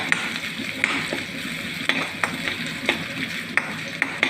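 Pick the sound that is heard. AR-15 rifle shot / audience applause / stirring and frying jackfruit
stirring and frying jackfruit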